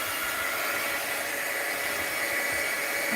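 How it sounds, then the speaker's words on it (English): A heat gun drying a watercolor art project, blowing a steady, close, even whooshing hiss that holds without change for the whole stretch, with no talking. "Alright, let's take my heat gun"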